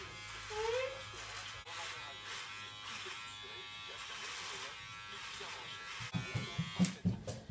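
Electric hair clippers buzzing through a boyfriend's hair at home, a steady close-up hum that shifts slightly as the blades move, with someone talking over it and some clattering handling noises near the end.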